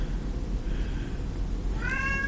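A pet cat meows once near the end, a short clear rising call over a steady low background hum in an indoor kitchen.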